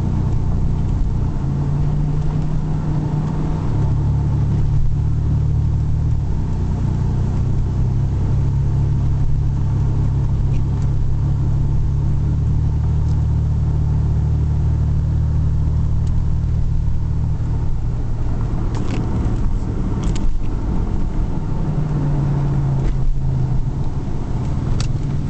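A 1999 Buick LeSabre Custom sedan rolling along a bumpy road at low speed, its steady engine rumble and road noise loud and continuous inside the cabin, with occasional thumps and no talking.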